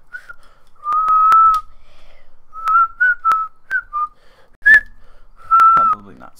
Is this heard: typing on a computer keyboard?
no